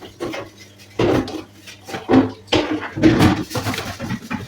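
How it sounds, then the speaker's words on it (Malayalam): Chicken pieces are dropped into a large biryani pot in layers, heard as several close, dull thuds and scrapes of a metal ladle against the pot, with no talking. "വീണ്ടും ചിക്കൻ ഇടുന്നു."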